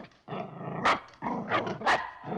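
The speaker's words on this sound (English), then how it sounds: "The dog doesn't like Dr. Smith" A dog barks and growls in short bursts, with three or four sharp barks over a low, rumbling growl. The sounds are close and moderately loud.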